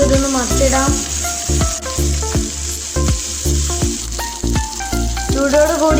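Pond fish frying in a pan with steady, loud sizzling, broken by a series of sharp utensil scrapes and knocks as the pieces are turned over.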